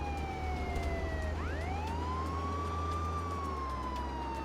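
A vehicle siren in the video game Wizard with a Gun wails loudly and steadily, sweeping down and then rising again in long tones over a constant low engine drone, with no voices.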